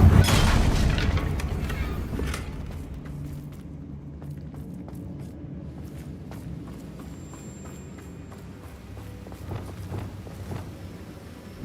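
A fiery Confringo spell explodes in the game Hogwarts Legacy: a loud boom at the start that decays into rumbling crackle and scattered impacts.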